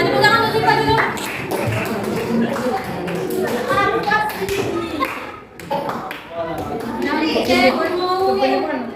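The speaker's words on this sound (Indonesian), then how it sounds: "Tepuk tangan untuk Siva dulu." A classroom gives a student named Siva a round of applause, scattered claps and taps mixed with children's chatter and voices throughout.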